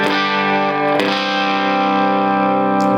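Electric guitar played through an amp while the tone control is adjusted, a loud, distorted sustained chord that rings on, with a fresh strum partway through and the treble brightening.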